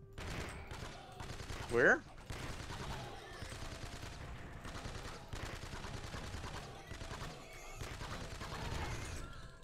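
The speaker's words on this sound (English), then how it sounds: "I like how the gun sounds actually change if you hit something." Video game gunfire in a spooky-themed shooter, rapid bursts of shots that change sound on impact, running almost continuously under people talking, with one louder exclamation.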